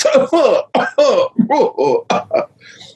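A person performs a weak, disorganized cough, a run of short, breathy, uneven bursts close to the mic, voicing the sound as an imitation rather than a real cough.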